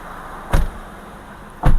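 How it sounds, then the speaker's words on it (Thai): Two car doors are shut one after the other, each a solid thud about a second apart, over a steady idling engine hum with no talking. "ปิดประตูแล้วนะครับ"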